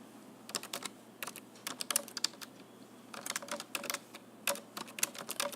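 Rapid, irregular clicking of keys on a computer keyboard, close and fairly quiet, in short bursts with brief pauses between them and no voices.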